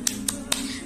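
Three sharp claps ring out in a quick, uneven rhythm as part of a children's spirit-clap routine at the start of a home lesson. The claps are close and crisp over a faint, steady background hum.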